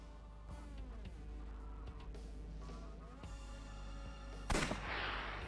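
A single sharp gunshot fires inside the video game AI: The Somnium Files, bursting out near the end over a steady bed of background music and ambience.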